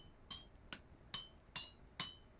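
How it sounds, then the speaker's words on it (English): An iron bloom is hammered on an anvil in the video game Vintage Story: five sharp, ringing metallic strikes land at an even, unhurried rhythm, each fading before the next. "you gotta hammer off all these black chunks on it"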